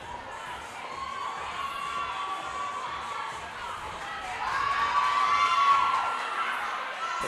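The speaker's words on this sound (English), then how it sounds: "Crowd reacting" Spectators at a Burn Boot Camp athlete games event cheer and shout steadily, with children's voices in the mix, a sustained roar that swells louder toward the end.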